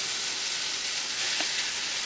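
Barley tipped into a pan of mushrooms and onions sets off a steady, broad sizzle that stays even and close throughout, with no voices.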